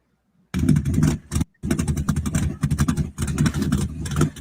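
A truck engine revs hard and close in a series of loud, rough roaring bursts, cutting out briefly before surging again.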